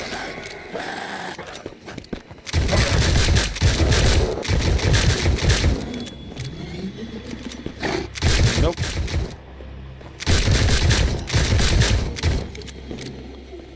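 Rapid bursts of gunfire in the Sker Ritual video game, loud repeated volleys in several stretches separated by brief lulls, with game sound effects between.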